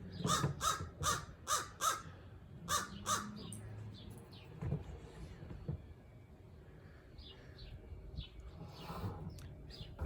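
A crow perched on the peak of a house caws in a quick run of six or seven loud, harsh calls, then gives scattered fainter caws, with some light background noise.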